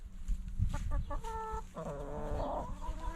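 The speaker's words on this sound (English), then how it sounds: "I don't need to see any begging chickens right now." Chickens cluck and murmur close by in a farmyard, a busy flock of short overlapping calls with a few longer tonal notes rising above steady background noise.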